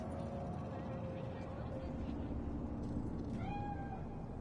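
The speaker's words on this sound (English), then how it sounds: "Fine-looking feline. Thought they'd all disappeared from the city." A cat meows in the video game Cyberpunk 2077, a short rising call near the end over a steady game ambience hum, with a voice line also heard.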